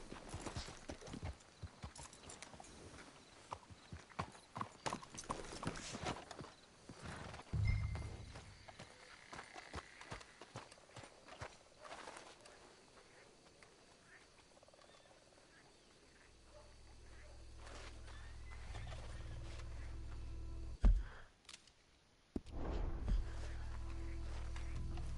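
Horses' hooves clip-clop on the ground in Red Dead Redemption 2, a quick irregular run of close hoofbeats that slows, followed by quieter movement and a few thuds, with voices talking over it.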